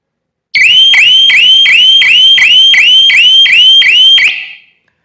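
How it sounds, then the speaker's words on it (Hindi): A home security alarm siren set off by a door sensor blares loud and close, rapid repeated rising electronic whoops in a steady rhythm before cutting off and fading. "10 सेकंड के अंदर अंदर सायरन बजेगा।"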